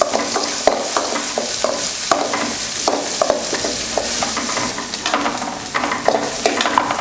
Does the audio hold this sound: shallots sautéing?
yes